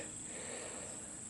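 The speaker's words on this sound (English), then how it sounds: "One of those peepers." Spring peeper frog calling along a shoreline toward mud flats, a faint, steady high-pitched trill continuing without a break through a short stretch of quiet outdoor air, with no voices.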